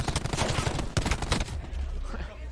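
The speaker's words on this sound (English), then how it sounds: "There's a sort of delicate exchange of gunfire between both teams continues." In-game gunfire from Call of Duty during the 2019 CWL Championship esports match: dense, rapid bursts of automatic fire crackle loudly for about a second and a half, then taper into quieter background noise.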